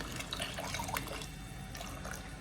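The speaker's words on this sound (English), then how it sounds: "let's add a little bit of water" Water from a blender poured into a pot of Ghanaian waakye stew, a soft continuous trickling and splashing pour lasting a couple of seconds, fairly quiet and close, with no talking.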